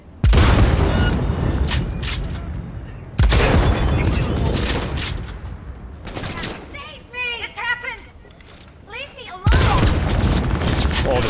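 Heavy gunshots from a weapon in Cyberpunk 2077 boom loudly in a few spaced bursts, separated by quieter stretches with game effects and someone talking over the action.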